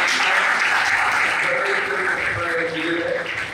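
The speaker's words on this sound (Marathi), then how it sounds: "आरतीसाठी एक जोरदार टाळ्या" Sustained applause from an audience at a student event, steady clapping throughout with a faint voice underneath.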